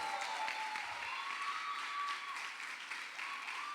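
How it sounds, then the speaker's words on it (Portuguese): Applause from a church conference audience, a sustained, even roar of many people clapping at a distance in a large hall, with no speech over it. "gostaria que você aplaudisse o Senhor"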